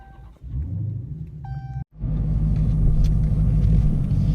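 A 2016 Dodge Challenger Hellcat engine cranks and fires up, then settles into a loud, steady, deep rumbling idle close by, with no talking.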